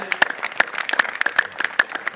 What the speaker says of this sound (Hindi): तीसरी तालियां आप लोग सब अपने अपने लिए जोरदार ताली हो जाए